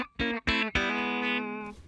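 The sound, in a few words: clean electric guitar tone, bridge pickup, Fender Twin-like amp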